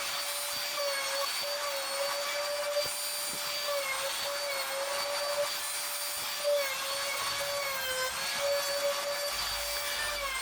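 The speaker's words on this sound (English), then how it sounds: "I'll use my router with a little round of a bit, just running it across on the sides just to break that edge" Small palm router fitted with a round-over bit easing the edges of a wooden Adirondack chair, a steady high whine running close and continuous for the whole stretch with slight pitch wobbles as it moves along the wood.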